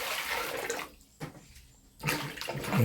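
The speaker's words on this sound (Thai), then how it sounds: "หลังจากนั้นก็เอาไปล้างน้ำนะครับเนาะ" Water splashes and sloshes close by as pumpkin is washed by hand, in two bursts separated by a short quiet pause.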